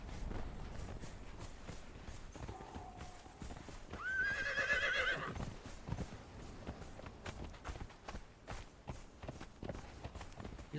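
A horse in the Conan Exiles game gallops across the desert with rapid, rhythmic hoofbeats, then lets out a loud neigh midway before the galloping continues, heard alone without talk.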